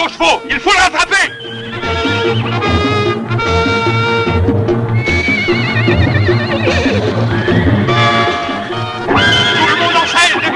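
In a 1968 Western film scene, horses whinny repeatedly with faint hoofbeats as riders set off in pursuit, the calls layered over a dense, continuous soundtrack.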